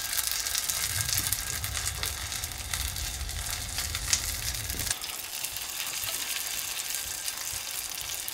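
Salmon spring rolls crisp and brown in a hot pan with a steady, close sizzle of frying oil; a deeper rumble drops away midway, leaving a thinner continuous hiss to the end.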